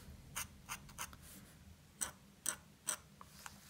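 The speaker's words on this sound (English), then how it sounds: "once the ink is flowing, then you can do these nice little cross hatches with it" A dip pen's metal nib scratches cross-hatching strokes onto paper, a series of short, faint, dry strokes in an irregular rhythm, close to the microphone and with no voices.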